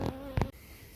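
Honeybees at a hive on a cold day give a few faint, brief buzzing bursts up close, with no voices.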